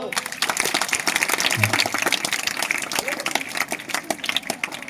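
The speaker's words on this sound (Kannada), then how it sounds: "ಎಷ್ಟು ಜೋರ ಚಪ್ಪಾಳೆ ಹಾಕ್ರಿ ಒಂದು" Applause from an audience at a motivational speech to students, a dense steady patter of clapping filling the whole span with a voice briefly heard over it.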